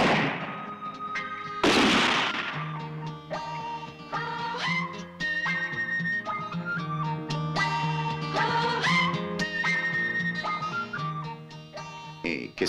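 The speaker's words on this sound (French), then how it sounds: "c'est une bombe" A bomb goes off in a Western comedy film: one sharp, loud blast early on, followed by sustained orchestral music with whistling melody lines.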